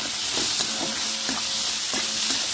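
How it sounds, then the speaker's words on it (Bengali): Chopped onion, tomato and green chili fry in oil with a strong, steady sizzle, while a spoon scrapes and taps the pan in a loose rhythm, close and fairly loud. "একটু লাল করে ভাজবো"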